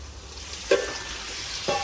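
Chicken gravy being stirred in a pan at an outdoor gathering, a soft steady sizzle with two sharp scrapes or clinks of the spoon against the pan.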